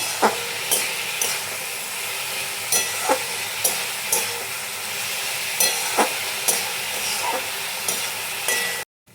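Spices with sugar and turmeric stirred and frying in a pan for sooji upma, a steady close sizzle broken by regular scraping strokes of a spoon, with no voices.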